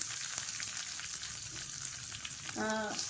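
Large onions frying in hot oil with popped mustard seeds, cumin and curry leaves give a steady, fairly quiet sizzle, with a short tonal sound near the end.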